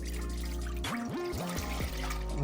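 Three cups of water pour into a small cooking pot, a close, steady splashing stream whose pitch rises and shifts as the pot fills, with no talking over it.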